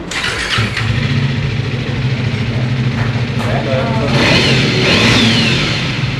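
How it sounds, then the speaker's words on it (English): A Triumph 400 motorcycle engine revs up and holds a steady, throaty exhaust note, loud and close, with rising revs toward the end. "It's got a great little exhaust note."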